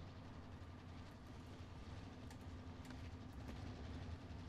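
Train rolling along rails in Warzone, a steady low rumble with faint clacking, fairly distant and even throughout.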